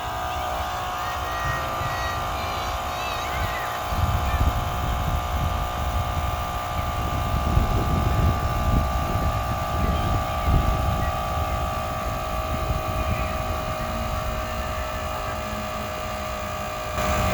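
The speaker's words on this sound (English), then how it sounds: "Now we take our electric air pump, we turn it on, we choose the mode for bicycle." An electric air pump set to bicycle mode inflates a bike inner tube, giving a steady, continuous motor drone with a high whine that runs unbroken throughout, close and fairly loud, with no talking.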